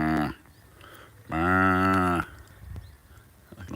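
Sheep in a woodland field give two nearby bleats, one short and one longer and louder, against quiet outdoor ambience.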